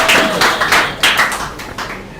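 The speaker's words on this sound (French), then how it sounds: "Est-ce qu'on peut les applaudir s'il vous plaît?" Audience applause for school quiz contestants on a competition show, heard as a dense wash of clapping with several louder swells, fairly close and alone without talk.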